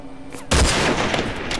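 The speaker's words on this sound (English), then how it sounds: "Please stop firing." Gunfire in the video game Hunted: a sudden loud blast after a brief quiet moment, followed by a dense rattling stream of shots and echoing impacts.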